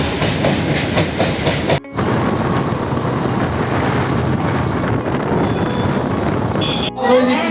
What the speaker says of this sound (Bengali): আর এত ট্রেন এখানে, প্রচুর ট্রেন যায়। খড়গপুর মেন লাইন এটাই।